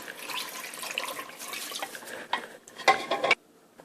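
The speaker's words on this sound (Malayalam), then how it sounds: "1 കപ്പ് വെള്ളവും കൂടി ചേർക്കണം" Water being poured from a cup into a pressure cooker holding beef in a home kitchen, a soft splashing trickle with a brief louder gush before it stops, close and alone.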